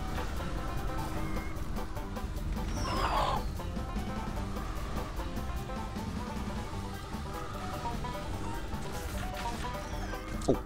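Chickens cluck repeatedly in the video game Neverwinter, with a steady run of fowl calls over busy game sound effects and a brief louder squawk partway through.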